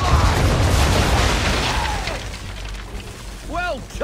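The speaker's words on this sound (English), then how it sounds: "Bring her on broadside, and when all guns are on target, call fire." A ship's cannons firing a broadside in Assassin's Creed III, a heavy roaring boom that fades into rumbling wash, with faint whistling tones near the end.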